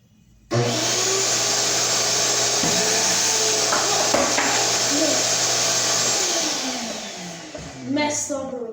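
A Shop Vac Super 1300 7.5 gallon, 7 horsepower vacuum cleaner switches on abruptly and runs with a loud steady whining roar during a suction test, with thumps and shifting tones, then winds down near the end.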